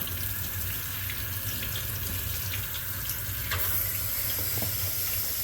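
Canned pigeon peas (gandules) rinsed under a kitchen faucet, a steady close hiss of running water splashing into a sink that continues without a break and with no talking.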